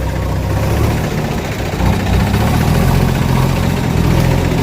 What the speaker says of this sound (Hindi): जेसीबी की मदद से ट्रैक्टरों को लगाकर ये काम किया जा रहा है।